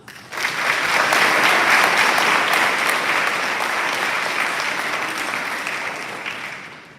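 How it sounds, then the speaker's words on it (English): An audience at a 2025 graduation ceremony bursts into sustained applause, a broad, even wash of many hands clapping that swells quickly, holds steady and fades out at the end. "Please let's give them a round of applause"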